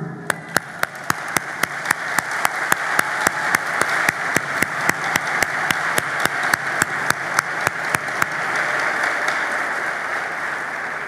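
Audience applause at a political speech, a steady wash of crowd clapping with regular sharp loud claps from a nearby person, the near claps stopping before the end while the crowd continues.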